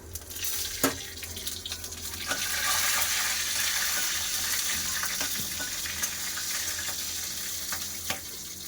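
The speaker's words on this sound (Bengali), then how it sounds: "তেল গরম হয়ে গেছে দিয়ে দেবো পাঁচ ফোড়ন দুটো শুকনো লঙ্কা কেটে দিয়ে দেবো দিয়ে দিচ্ছি একটা তেজপাতা" Panch phoron, two dried red chillies and a bay leaf crackle in hot oil, giving a loud, steady hissing sizzle with occasional sharp pops. The sizzle swells slightly after the first seconds, and there is no talking.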